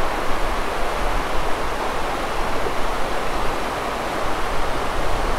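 A flooded river in the Semeru lahar area rushes past as a loud, dense, continuous roar of churning water, steady and unbroken throughout with no voices.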